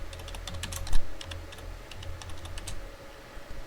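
Quick, irregular clicking of keys on a computer keyboard while entering text in a PowerPoint replace dialog, crisp and close, with short pauses between bursts and one heavier thump.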